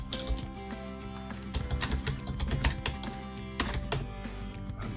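Someone types on a computer keyboard close by, with quick irregular clicks in short bursts and brief pauses, fairly quiet, with no talk.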